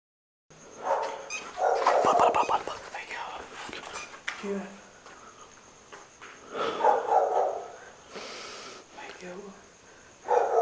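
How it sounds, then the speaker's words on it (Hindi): Dog barking at night during a frightening encounter, a few sharp barks in bursts, fairly distant, mixed with hushed, tense talking. "कुत्ते के भौंकने की आवाज़ सुन रही है ये?"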